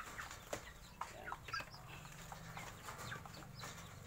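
Shamo heritage chicks in a natural brooder, their faint scattered high peeps over a soft background hum, with occasional louder chirps from nearby.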